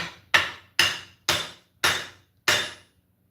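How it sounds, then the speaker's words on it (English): A metal hammer striking to seat a tomahawk handle: five sharp, ringing blows at an even pace, each decaying quickly, close and loud with no talk. "I am going to use a metal hammer"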